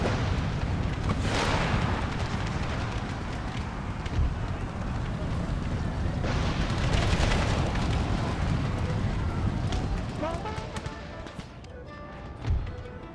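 Cannon and artillery fire booming through a Gettysburg battle in a Civil War strategy video game, with dense rumbling blasts filling the scene and a louder boom near the end, under a continuous roar of battle.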